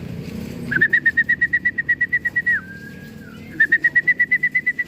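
Racing pigeons come in at a loft after a summer race toss from Candelaria, Quezon, and a bird near the loft gives a long run of steady, evenly spaced chirps with a brief whistling slide midway before the chirps resume.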